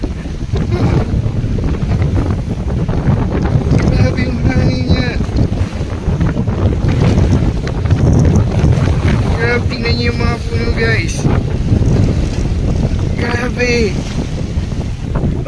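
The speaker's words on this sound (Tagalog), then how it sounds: "Grabe talaga yung hangin, sobrang lakas." Strong wind at sea off Capaluhan roars and buffets the microphone continuously, with waves and water sloshing around a boat underneath, and a few faint voices heard briefly through the gusts.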